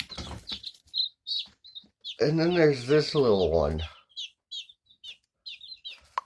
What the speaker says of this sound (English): Out of 12 eggs, we ended up with 9 new baby chickens.